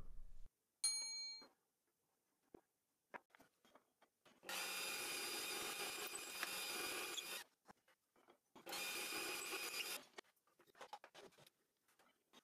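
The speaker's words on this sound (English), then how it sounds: "Then I mark and drill the holes for the fastening screws." A power drill bores holes for fastening screws in wood while building flip stops for a small crosscut sled, in two steady bursts of several seconds each, separated and followed by light tool handling and clicks.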